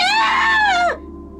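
A loud, high scream holds steady for nearly a second, then bends downward and cuts off abruptly, leaving a faint hum behind.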